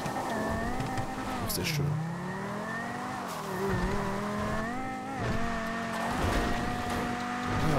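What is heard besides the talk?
car engine revving in video game Grand Theft Auto V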